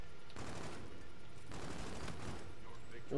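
Hip-fire gunfire from a weapon in Call of Duty: Infinite Warfare, two dense bursts of rapid shots over steady game noise, with faint background voices.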